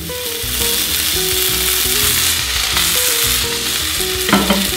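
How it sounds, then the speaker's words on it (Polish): Cod sizzling loudly in a hot pan, a continuous crackling hiss with occasional scrapes and a clatter near the end, no voices. "W międzyczasie usmażymy na tej samej patelni naszego dorsza."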